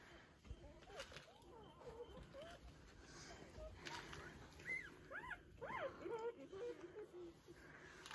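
Newborn Rottweiler puppies in a litter of twelve whimper and yip in a string of thin, rising cries, fairly close and clustered in the second half, with someone talking softly over them.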